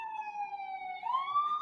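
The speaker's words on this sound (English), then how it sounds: "you ain't getting no police sirens, baby" A police siren wails steadily, its tone sliding slightly down and then rising again, loud and continuous with no voices over it.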